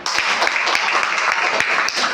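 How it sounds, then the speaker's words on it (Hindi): An audience at an online-business seminar claps loudly for the presenter, a thick, continuous wash of many hands with a few sharper individual claps poking through. "सर के लिए जोरदार तालियां"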